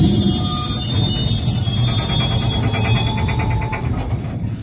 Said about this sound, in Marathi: अंमळनेरवरनं विगणवाडीच्या दिशेने जी ट्रेन चाललेली, जी मालगाडी आहे